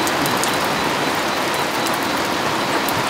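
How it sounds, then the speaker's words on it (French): Steady, dense rain from a thunderstorm at sea aboard a sailboat, hissing continuously across the whole stretch, even and fairly loud with no break and no voices. "Il y a des éclairs partout. Il pleut."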